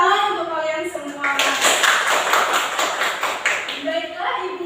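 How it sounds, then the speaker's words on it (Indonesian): Children in a classroom clap together for a few seconds after a teacher's quiz, the burst loud and dense in the middle, with voices talking before and after. "Tepuk tangan untuk kalian semua."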